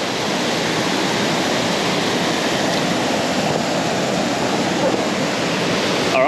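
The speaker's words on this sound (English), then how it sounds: "It's a pretty nice little waterfall." A small waterfall in Western Australia's Southern Forests roars as a loud, constant, broadband rush of falling water, close by and unbroken from start to finish.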